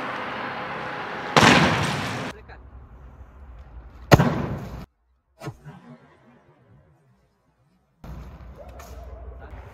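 A fridge thrown from a roof lands on a trampoline with a loud crashing burst, followed by a sharp bang and a smaller thud, then quiet before outdoor noise returns.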